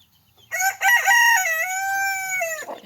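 A single loud, drawn-out rooster crow, close and clear, lasting about two seconds with no talking, among a flock of chickens.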